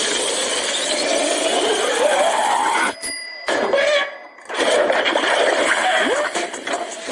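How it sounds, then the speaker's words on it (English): Loud, dense sizzling from chicken cooked on hot lava, a continuous hiss with crackles that drops out briefly twice before resuming. "You hear that? That's the sound of sizzling."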